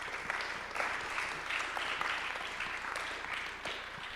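A conference audience applauds after an on-stage discussion, with dense, steady clapping that stays even and unbroken from start to finish and no talking over it.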